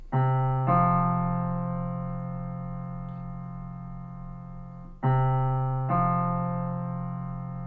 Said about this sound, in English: That's a perfect fourth.